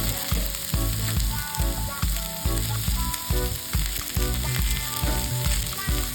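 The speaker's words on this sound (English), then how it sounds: "Right now we're going to add our peppers and give it a nice saute for about 3 to 5 minutes." Bell peppers sauté in a hot pan for a rasta pasta dish, giving a loud, continuous close sizzle with music playing underneath.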